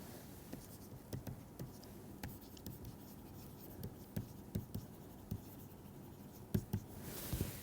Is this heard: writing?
yes